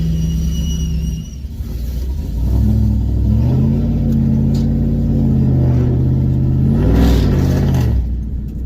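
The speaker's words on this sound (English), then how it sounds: "This is probably the best sounding like Hemi I have heard." A Ram four-door pickup's Hemi V8 revs loudly and close up in a gravel lot, its deep exhaust note climbing through several throttle blips and a sustained pull before settling back to idle.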